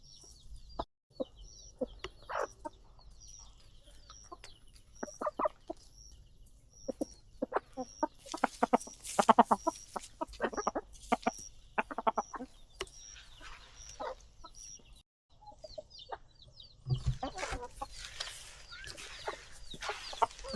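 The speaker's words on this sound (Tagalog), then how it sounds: "Ito yung ating mga native na sisiw." Native chicks and chickens on a Philippine farm give scattered chirps and clucks, close and soft, in uneven bursts over a quiet outdoor background.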